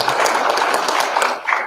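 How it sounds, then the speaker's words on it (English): An audience claps at a media launch, a dense and steady patter of many hands close by that holds for the whole short moment before easing slightly at the end. "Can we just clap hands for the doctor?"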